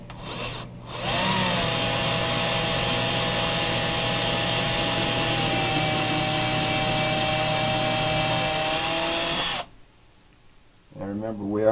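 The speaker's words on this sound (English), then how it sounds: "Simple drill. A little pilot hole." A power drill whines steadily for several seconds while boring a pilot hole in pine, then cuts out; a voice starts speaking right after.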